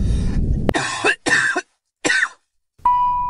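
An old man coughs several times in quick, harsh bursts separated by short pauses, close to the listener, followed by a brief tone at the end.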